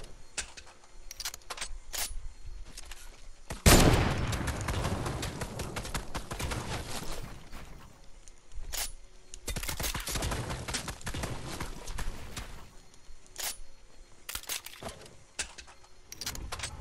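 A sniper rifle fires in Fortnite with one loud sharp crack early on, followed by a long stretch of scattered clicks, pops and shots amid quieter game noise.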